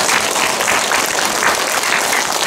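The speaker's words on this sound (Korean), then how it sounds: "박수 부탁드립니다" Audience applause in a lecture hall after an hour-long talk on filial piety at a Filial Piety Day event, a dense steady wash of clapping at moderate loudness with no voices over it.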